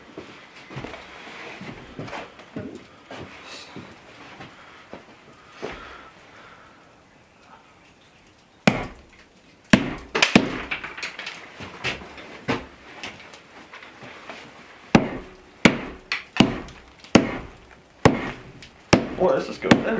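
A hammer breaks up ice in a barrel for making lemon ice cream by historical 1820s methods. Sharp, loud cracking blows start halfway through and come in a fairly regular run toward the end, with scraping and some talk earlier.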